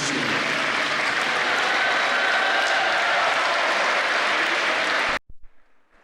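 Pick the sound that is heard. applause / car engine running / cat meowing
applause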